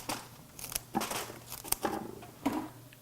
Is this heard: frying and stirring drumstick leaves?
no